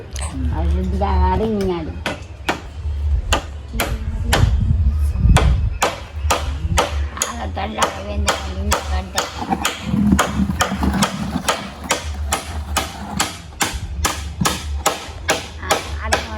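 Nails being hammered into wood, with a long series of sharp, evenly spaced strikes that continue steadily throughout as people talk over them.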